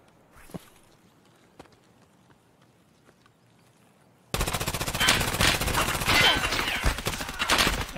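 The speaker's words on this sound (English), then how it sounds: "I think he was shooting an SR-25" Rapid SR-25 rifle gunfire from a first-person shooter game bursts in abruptly after a quiet stretch with a few faint clicks, then stays loud and dense with repeated cracking shots to the end.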